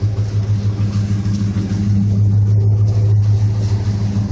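A 1979 Chevy El Camino with true dual exhausts pulls away, its engine a loud, close, deep rumble that holds steady throughout the few seconds.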